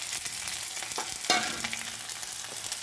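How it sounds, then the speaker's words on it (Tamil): Dried chillies hit hot oil with already-crackled mustard seeds, giving a steady close sizzle with a sharper burst of spitting midway, for pumpkin poriyal; no talking. "இப்போ கடுகு பொரிஞ்சிருச்சு. கொஞ்சம் மிளகாய் போட்டுக்கலாம்."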